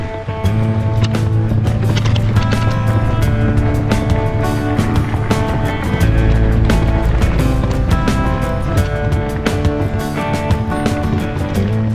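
Bicycle ridden along a desert bikepacking loop trail, with continuous rumbling tire and drivetrain noise, rattling gear and frequent small clicks and knocks throughout, fairly loud and close.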